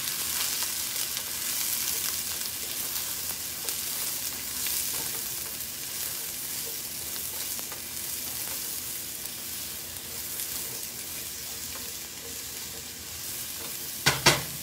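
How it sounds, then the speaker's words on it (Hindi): Onions and mushrooms fry and sizzle in butter mixed with mustard oil in a pan, a steady close crackle with occasional stirring scrapes and a couple of sharper clinks at the end, no talking. "स्टार्ट करते हैं हम अनियंस और मशरूम्स को सबसे पहले फ्राई करना।"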